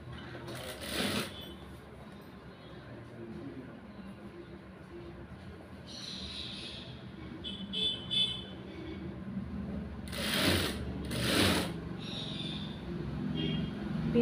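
A sewing machine stitches the side seam of a blouse in short separate bursts of rapid mechanical whirring, close by, with quiet pauses between runs and occasional talk.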